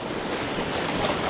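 Sea swell washes onto a UK shore during bass lure fishing, a continuous broadband rush of surf with wind noise, steady and close, no voices.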